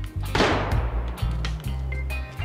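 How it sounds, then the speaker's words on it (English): A single sharp gunshot cracks in the DayZ game world, fairly close and loud, followed by a low steady hum of game ambience. "I just heard a gunshot"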